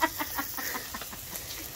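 Chickens cluck in a quick, fairly soft series of short calls at a home in Bauang, La Union, with no talk over them.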